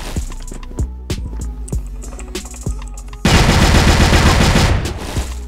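Gunfire in a shooter video game: several separate sharp shots, then a loud, dense automatic burst that goes on for about two seconds.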